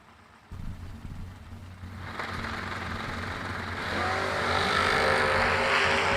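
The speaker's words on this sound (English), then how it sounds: "Paul Trent in the left lane, dialed 620. In the square body S10, that is. Taking on Steve Rohrs" Drag racing at a drag strip event, with a square body S10 and a Chevy Camaro: engine roar builds from a low rumble into a loud, rising high-revving wail as the cars launch and accelerate.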